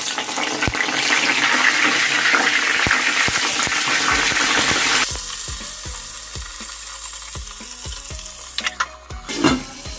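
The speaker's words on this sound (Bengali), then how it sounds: "তেলটা গরম হয়ে গেছে, এবার বেগুনগুলো দিয়ে দেব।" Eggplant pieces coated in salt and turmeric hit hot oil with a loud, dense sizzle that suddenly drops to a quieter crackle, with scattered ladle clinks and stirring knocks and a brief clatter at the end.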